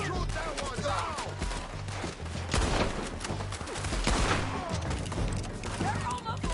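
Gunfire in the Western video game Red Dead Redemption 2, repeated rapid shots and bursts over several seconds under shouted voices and game noise.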